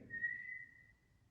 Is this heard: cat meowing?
no